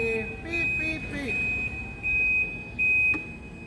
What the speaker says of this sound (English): one more light to check is my reverse lights. That's working. That's working, and I can hear beep, beep, beep.